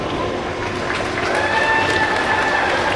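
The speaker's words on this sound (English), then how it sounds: "Let's give him a big round of applause." A graduation audience applauds for a diploma recipient, with steady, dense clapping from a large crowd, moderately loud and sustained throughout, with some faint cheering and voices mixed in.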